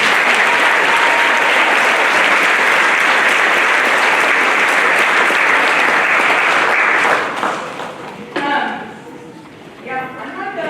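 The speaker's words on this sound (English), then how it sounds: "Give them one more round of applause." Loud, sustained applause from a band concert audience fills the room, then tapers off as a few claps linger and voices come through.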